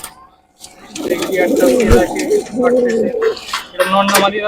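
Fancy pigeons, including black Sirazi and short-faced hens, coo steadily and near at hand in a loft while someone talks over them.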